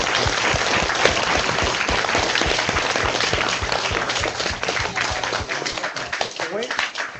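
Applause fills a room as a Pro Football Hall of Fame member is welcomed at a speaking event, a steady, fairly close patter of clapping with some sharp individual claps, thinning out toward the end.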